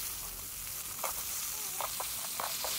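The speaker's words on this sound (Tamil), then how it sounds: "அந்த ஃப்ரை ஆன பிறகு நம்ம நண்டை போட்டு நல்லா வதக்குறோம்" Crab frying in a pan with curry leaves, a steady close sizzle with a few brief stirring scrapes and taps over it, no talking.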